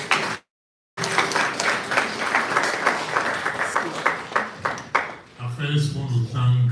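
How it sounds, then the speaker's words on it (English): Ghanaian community audience in St. Louis clapping for themselves at a meeting, a brief gap of silence and then a fairly loud, broad patter of hands, with a voice coming in over the last moments. "clap for yourself"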